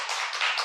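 A church congregation claps in thanks during a worship service, a brief burst of dense, steady clapping from many hands, close and fairly loud with no voices over it.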